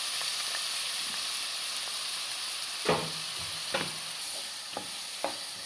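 Onions sauté in coconut oil in a pan for prawn biryani, a soft steady sizzle with a few scraping stirs of a spatula in the second half, close by.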